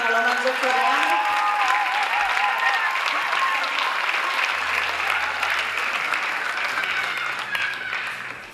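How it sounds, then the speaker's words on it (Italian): A large crowd applauds loudly and steadily at a dance school recital, the clapping sustained for several seconds with a few voices and cheers mixed in. "Facciamo un applauso gigante."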